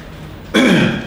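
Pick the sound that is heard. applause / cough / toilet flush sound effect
cough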